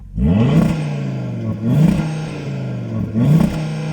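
An Audi RS3 five-cylinder engine with the optional sports exhaust, heard close up, revs hard three times, each blip climbing to the soft limiter before it drops back to a burbling idle.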